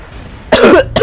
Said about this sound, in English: Had a cough right when I started.